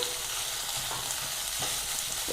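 Chopped medium tomato fries with ginger-garlic paste in a hot pan, giving a short, dense, continuous sizzle with soft stirring movement and no talk.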